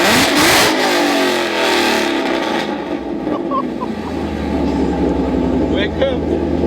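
A 2016 Ford Mustang 5.0 with catless longtube headers revs loud and close, a sharp burst fading into a deep rumbling idle, with excited voices talking over it.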